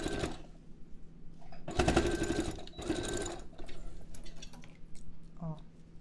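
A sewing machine stitches across a folded fabric pouch in two quick close bursts of rapid whirring, followed by small handling sounds and light rustling.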